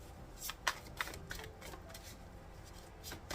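Soft riffling and snapping of tarot cards being shuffled, with a few crisp flicks near the start, fairly quiet and close.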